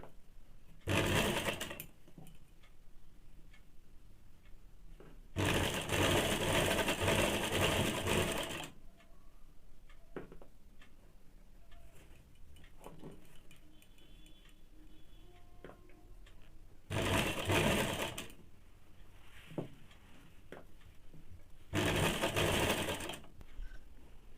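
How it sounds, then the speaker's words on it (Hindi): A sewing machine stitches a thin, fully folded blouse strip for a Bombay-cut blouse in four loud, rapid whirring runs. Quiet pauses with faint handling ticks fall between the runs. "अब पतला वाला पट्टी को पूरा फोल्ड करके एक सिलाई डाल देंगे।"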